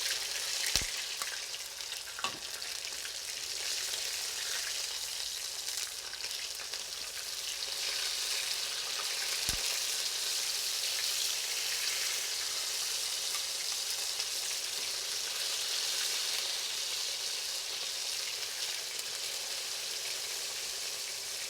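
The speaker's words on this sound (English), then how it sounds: "I'm gonna start cooking these shrimp in the wok" Shrimp fry in a hot wok for summer chili shrimp, giving a steady, close, dense sizzle that runs throughout, with a few sharp pops near the start and again midway.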